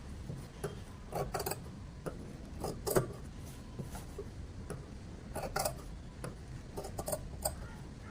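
Scissors snip through the border of a saree about half an inch from a V-shaped design, giving a series of faint, crisp ticking cuts in irregular bursts over a low room hiss.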